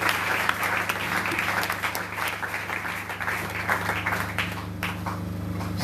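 A church congregation applauds after a scripture reading, giving a sustained burst of clapping from many hands over a steady musical drone.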